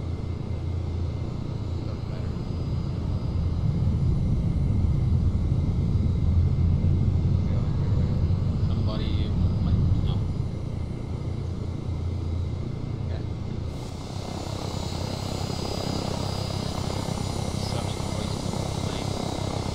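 A Blackfish VTOL aircraft in ArmA 3 runs its engines in hover mode during takeoff, a loud, steady rumbling roar that holds throughout, with the tone shifting as the throttle changes partway through.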